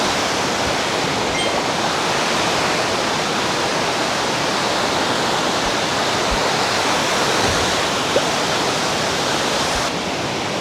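Waterfalls in a village in Sapa, Vietnam, produce a constant, dense rushing roar of falling water, loud and unbroken for the whole stretch, with no voices.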